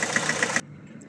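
A misfiring car engine running on three cylinders idles loudly with a regular, uneven pulsing beat, then cuts off abruptly halfway through, leaving near silence.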